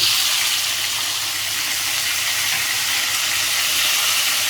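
Tomatoes added to frying garlic and ginger sizzle loudly and steadily in a pan, a dense close hiss with no talk.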